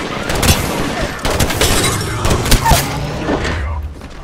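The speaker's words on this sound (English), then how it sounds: "I am taking fire, friends." Rapid bursts of incoming gunfire in Apex Legends, a dense fusillade of close shots and thuds with a couple of heavier booms, loud and continuous throughout.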